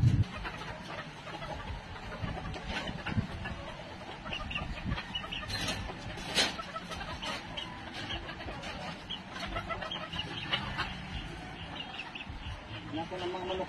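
Chickens cluck and squawk among noisy outdoor surroundings with speech underneath, fairly faint and continuous.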